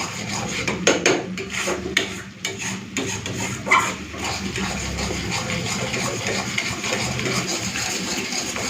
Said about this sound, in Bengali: এইভাবে নেড়ে নেড়ে আরও শুকাতে হবে